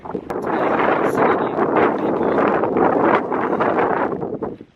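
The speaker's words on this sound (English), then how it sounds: "the wind is building up" Strong wind buffets the microphone on a mountain trail in Nepal, a loud, continuous roaring gust with rough fluctuations and no let-up throughout.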